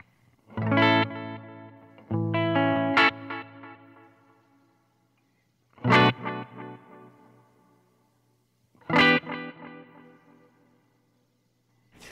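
Guitar notes struck in separate phrases through an Earthquaker Dispatch Master delay and reverb pedal, each attack followed by trailing echo repeats and a washy tail that fades between phrases, with no talking.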